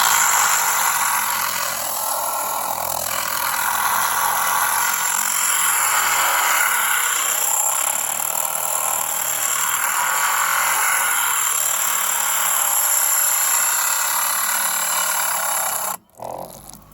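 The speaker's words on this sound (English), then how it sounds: "let's rub this piece of Marcus stone and some of agate from Indonesia" A 3D-printed flat lap grinding Marcus stone and Indonesian agate, a continuous close whirring grind with rhythmic swelling scrapes as the stone is worked, ending in a sudden cutoff.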